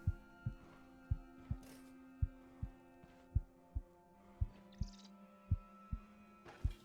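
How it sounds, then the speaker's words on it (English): A steady heartbeat thuds through a Stoneshard dungeon in the video game, paired beats repeating evenly over a low hum, with a faint chime near the middle. "What's with that heartbeat?"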